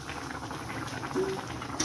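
Goat meat curry simmering in a pot, a close steady bubbling and gentle popping throughout.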